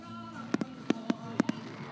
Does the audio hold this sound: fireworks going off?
yes